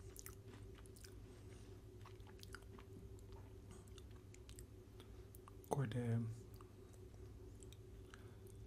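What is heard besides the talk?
chewing a crunchy Sunfeast Bourbon Bliss biscuit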